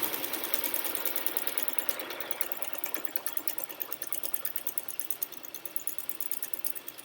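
A sewing machine stitches a pee pad, running steadily and close with a fast, even rattle of needle strokes that holds for the whole stretch without pause.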